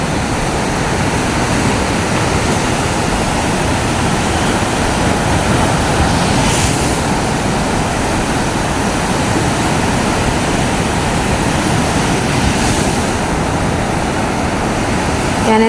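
Ocean surf at a seashore, a constant broad wash of breaking waves close by with two faint swells rising midway and near the end, some wind in the mix, no talk.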